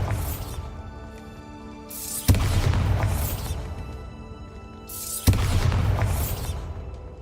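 Bombarda blasting spell from a wizarding video game: two heavy booming explosions, each a sharp loud crack followed by a long rumbling roar, the second about three seconds after the first.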